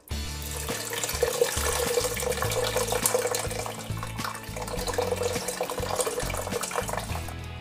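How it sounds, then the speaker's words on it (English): Tamarind water pours into a pot of Madras-style crab curry, a continuous splashing, gurgling stream running several seconds with clattering kitchen thuds beneath it, close and fairly loud. "Just gonna add the tamarind water."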